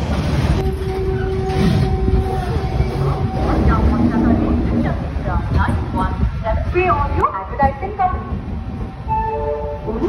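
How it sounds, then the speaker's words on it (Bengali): The Howrah–Barbil Jan Shatabdi Express rumbles and clatters loudly as it rolls into Kharagpur station, with tonal squeals and horn-like tones, and people talking nearby over the noise. "নির্ধারিত সময় থেকে প্রায় 1 ঘন্টা 25 মিনিট লেট করে আমাদের ট্রেন ঢুকলো এই খড়গপুর স্টেশনে"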